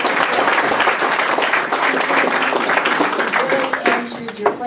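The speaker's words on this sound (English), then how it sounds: "Would you please, at this time, give Phil McDonald a round of applause?" A senior center audience at a political forum applauds Phil McDonald with a continuous, full round of clapping that holds steady throughout, with a few voices audible near the end.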